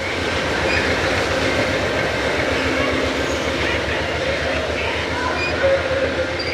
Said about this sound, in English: Where's this train going? San Diego. Yeah, this is a P42.